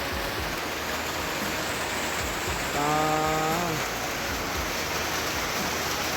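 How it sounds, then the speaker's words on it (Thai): Steady rain falls in rural Laos, a constant hiss filling the scene, with a brief spoken word and a short tonal sound partway through. "ฝน"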